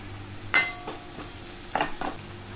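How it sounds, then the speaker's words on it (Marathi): Onions with ginger, garlic and masala frying in oil in a pan, a soft steady sizzle broken by a few sharp scraping clinks of a spoon stirring against the metal. "त्यात आलं लसूण पण आहे, त्यामुळे जरा चांगला आपण वास जाईपर्यंत व्यवस्थित परतून घ्यायचा चांगला"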